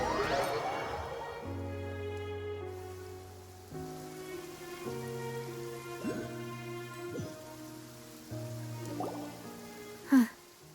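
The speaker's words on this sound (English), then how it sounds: "It's been raining non-stop for a few days now." Steady rain patters down in a Genshin Impact scene, a soft continuous hiss running beneath sustained musical tones, with a sharper splash or knock near the end.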